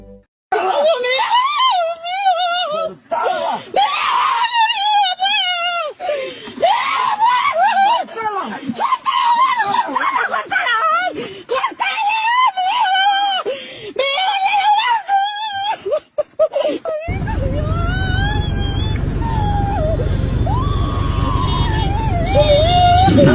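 People scream and cry in panic during a lion attack along a trail. The shrill, wailing screams are loud and close, overlap one another almost constantly, and give way to a steadier wail over harsh background noise near the end.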